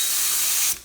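A paint spray gun sprays vehicle paint at about 15 PSI, giving a loud, steady, close airy hiss that cuts off abruptly when the trigger is released, followed by a brief fading tail.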